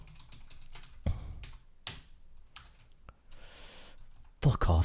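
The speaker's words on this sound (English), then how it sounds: "My typing is so bad." Fast bursts of clicking keys on a computer keyboard during C programming, close and fairly quiet, with a few louder thumps and brief pauses between runs of typing.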